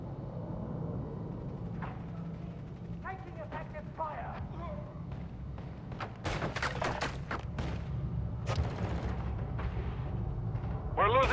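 Call of Duty MW3 multiplayer match with gunfire cracking in scattered bursts, growing denser and louder toward the end over a constant low rumble of battle, with game voices speaking intermittently.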